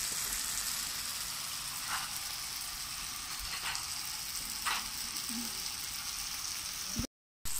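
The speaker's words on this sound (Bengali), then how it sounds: "আদা রসুনের পেস্ট, আদা রসুনটা ভাজা হতে থাকে।" Ginger garlic paste fries in a pan for a chicken curry, a steady soft sizzle running evenly throughout with a few faint clicks, then a brief cut to silence near the end.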